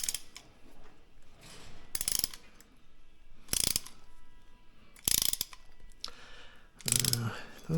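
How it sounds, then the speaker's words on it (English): A ratchet tightens bolts while a Ultra Fuego UF-1186 home gym is being assembled. It makes about five separate bursts of close, sharp clicking, with quiet pauses between them. "use the Allen wrench here, yeah,"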